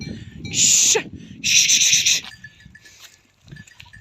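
Sheep on a village farm bleat twice, both calls loud and close and each lasting under a second. Low murmuring voices and faint farmyard sounds come in between the calls.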